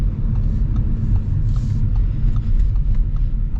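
2025 Audi A4 with the Turbo 2.0 engine accelerating in dynamic mode, a steady, deep engine rumble heard from inside the cabin, continuous and fairly loud with no break.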